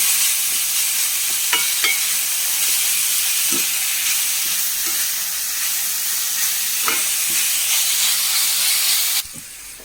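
Three fairly large onions sautéing in a pan for ghee rice and liver curry, a steady loud sizzle and hiss with occasional clinks of stirring, ending in a brief quieter moment.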